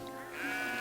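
A single sheep bleating from a flock by a well in a field, one drawn-out wavering call that swells slightly in the second half, near and clear with no talk.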